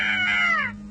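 A parrot gives a single harsh, nasal squawk that lasts just under a second and falls in pitch as it fades, loud and close.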